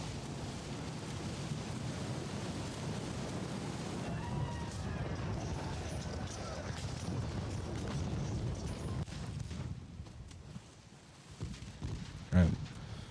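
Naval gunfire from the Ultimate Admiral: Dreadnoughts game, a German fleet with a green crew engaging merchant ships: continuous rumbling sea and wind bed with muffled booming salvos, ending in one sharp louder shot near the close.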